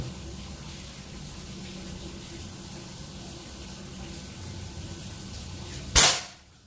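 A single sharp crack from a compact folding PCP air rifle, 40 cm long and charged to 3000 psi, cuts through a quiet outdoor background near the end, then fades quickly into a short decaying tail.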